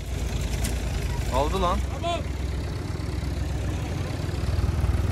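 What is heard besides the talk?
Tümosan and Enter tractor engines running in the forest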